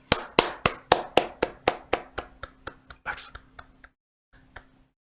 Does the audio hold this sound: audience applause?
yes